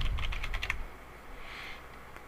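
Rapid keystrokes on a computer keyboard as a file name is typed, a quick cluster of close, crisp clicks for under a second, then a quiet room with faint hum.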